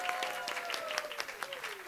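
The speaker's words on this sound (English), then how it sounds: "give a big round of applause for our first project lead" Crowd at a college game development showcase gives a round of applause for a project lead, steady clapping heard faintly at a distance, with a tone and some murmuring underneath.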